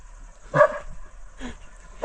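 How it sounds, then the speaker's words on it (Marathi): Several dogs bark in short separate bursts, about three loud barks spaced across the moment with quiet gaps between them, fairly close by. "कुत्री भोकायला लागली ती"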